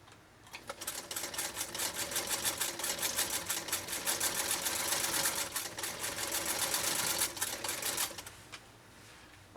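A restored Singer 192K sewing machine stitches through roughly 12-ounce leather, a dense, rapid mechanical clatter running nearly the whole time at fairly steady speed with slight surges from the foot pedal, close and alone.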